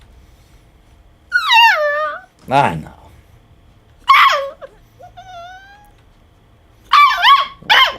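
A puppy whines and yelps close by in high, wavering cries, then gives sharp barks, with a few outbursts separated by short silences, while a person speaks briefly.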